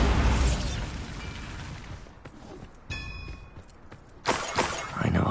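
Bombarda spell explosion in a Harry Potter video game: a loud, shattering blast that decays into clattering debris and a ringing metallic tone, followed by a second loud burst.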